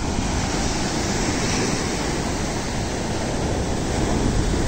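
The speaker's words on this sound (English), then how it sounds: "You can hear the roar of the sea." Sea waves roaring onto Mai Khao Beach in Phuket, a loud, continuous broadband surf wash with wind buffeting, unbroken and close, with no voices.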